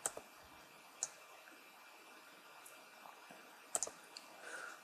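Computer mouse clicks come as a few sharp, quiet, isolated ticks at irregular intervals over a faint background hum while editing in Audacity.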